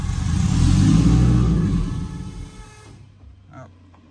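A Subaru drag car engine revs loudly up close and then hangs at high revs, a throttle fault, before falling away, with a low idle rumble and a faint tick trailing at the end.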